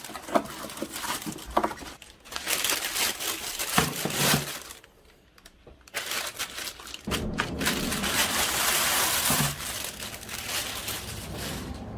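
Keyboard with a standard PS2 connector being unpacked from its retail box, giving rustling, crinkling packaging and cardboard handling noises in bursts, close and fairly loud, with a brief quiet pause midway.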